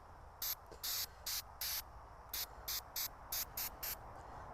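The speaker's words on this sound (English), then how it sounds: "And I'm just going to spray along the cable," White lithium grease sprays from an aerosol can along a Ford tractor proof meter cable in short hissing bursts, about eleven quick sprays in an irregular rhythm, close and clear over a quiet background.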